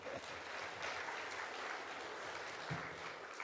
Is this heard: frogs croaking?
no